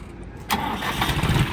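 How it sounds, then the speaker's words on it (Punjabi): A tractor engine cranks over and catches after a short quiet moment, settling straight into a rough, steady running sound. "ਸਟਾਰਟ ਕਰੀ ਮੜਾ ਟਰੈਕਟਰ"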